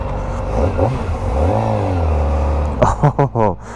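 A Kawasaki Ninja ZX-4RR inline-four motorcycle engine hums and rises in pitch up close, then blips through a few quick revs while someone talks over it.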